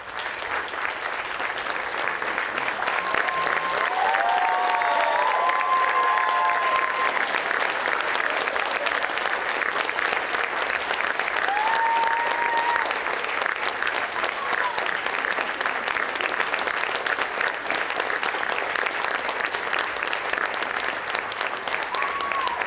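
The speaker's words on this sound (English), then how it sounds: "I'll ask students to stand, turn to face the audience, and receive collective applause" Students and families applaud together at an 8th grade promotion ceremony, a dense steady wash of clapping from a large audience that holds at full strength throughout, with faint voices mixed in.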